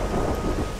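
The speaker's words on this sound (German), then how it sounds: "Regnet wieder sehr gut." Steady rain in the cozy game Terra Nil, a dense continuous wash of patter with low rumbling underneath, even and unbroken through the short moment.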